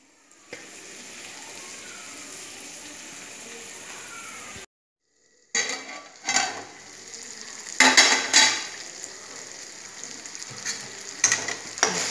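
Tomatoes cook down in a pan for drumstick curry, a steady soft sizzle broken by a brief silence, then louder bursts of stirring and the scrape of a spatula against metal.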